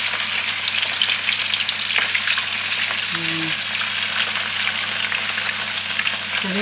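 Hot cooking oil sizzles and crackles steadily in a pan, a dense continuous frying hiss that stays loud and even throughout with a brief faint tone midway.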